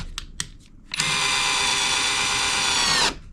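A power drill runs at its third speed setting, a steady loud whine holding for about two seconds after a couple of brief clicks, then cutting off abruptly.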